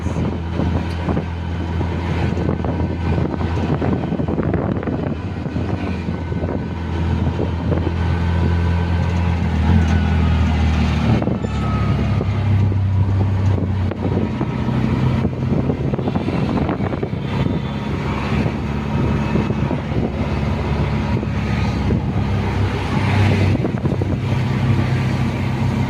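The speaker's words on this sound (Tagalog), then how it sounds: "Ito yung traffic dito sa Manggahan" Steady road traffic in Manggahan, a continuous roar of passing cars and engines with wind buffeting the microphone, sustained without pause.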